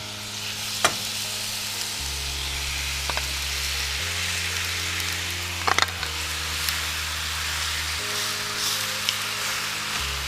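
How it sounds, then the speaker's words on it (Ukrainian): Meat sizzles and fries steadily in oil in a preheated pan, a dense continuous crackle close by with a few sharper pops, no voices over it. "На розігріту сковорідку викладаємо м'ясо."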